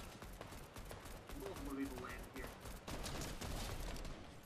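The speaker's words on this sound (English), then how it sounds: "Hold on, someone's shooting." Gunfire crackles in a Fortnite match, a rapid run of shots at moderate distance over game ambience, with a voice talking in the background.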